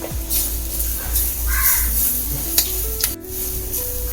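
Grated coconut fries in hot coconut oil with curry leaves and green chillies, a loud, dense sizzle that runs throughout while a spoon keeps stirring and scraping the pan.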